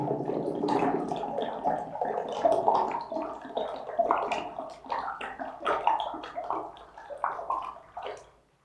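Water glugs and splashes as bottles are poured one after another into a big jug, a bubbling, gurgling pour that rises and falls in bursts before tapering off at the end.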